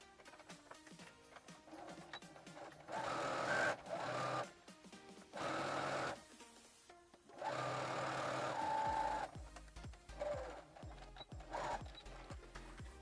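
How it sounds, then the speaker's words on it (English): A domestic sewing machine stitches the side and back pieces of a pair of shorts together in several bursts of steady mechanical whirring, separated by short pauses filled with quiet handling sounds. "I am going to line the side piece and the back piece together, making sure that the notches match up, and then I'll sew it together."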